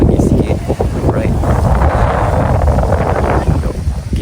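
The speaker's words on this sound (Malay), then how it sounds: "Cuaca kat sini agak windy sikit, agak berangin sikit." Strong, steady wind buffets the microphone near Mount Fuji in Japan, a loud, continuous roar and rumble that fills the whole stretch with no pauses.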